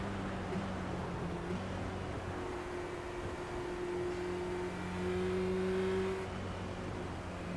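The engine of a Formula Renault 2.0 race car in a racing game at Oulton Park, a steady buzzing drone with a rising and falling pitch as it accelerates and shifts, continuous and fairly loud throughout.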